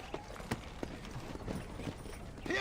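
Horse hooves galloping in the Red Dead Redemption video game, a fast run of soft, close clip-clop beats under faint background game ambience.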